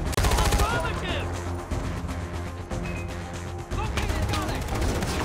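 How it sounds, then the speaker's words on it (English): Enemy gunfire in Far Cry 4, dense overlapping shots and bursts crackling steadily throughout, loud and close, with game sound effects and music underneath. "they're shooting me"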